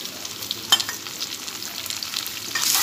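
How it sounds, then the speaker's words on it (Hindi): Chilli chicken with sliced onion is stirred on a low flame, a soft continuous sizzle broken by a few utensil clicks and one sharp tap. The sound stays close and moderately quiet, with no speech. "और लो फ्लेम में इसे स्टर करूंगी"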